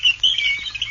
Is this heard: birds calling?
yes